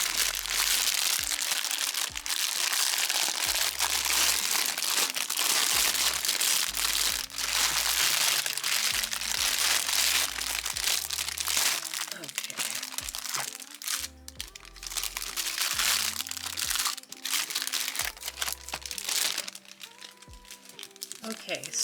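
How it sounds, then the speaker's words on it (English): Plastic packaging crinkles and crackles steadily and up close while a travel watercolor set is unwrapped, with a busy, continuous rustle and occasional sharper crunches. "let me just go ahead and take it out of the plastic"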